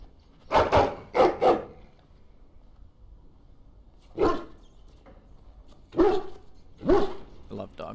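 A dog in Dragon Age: Origins barks in short bursts, first a quick triple bark, then single barks after pauses, loud and close.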